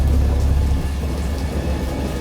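A thunderstorm in the Lovecraftian horror game Dagon rumbles as a continuous, loud low roar with steady rain-like hiss, strongest in the first moment and then holding level.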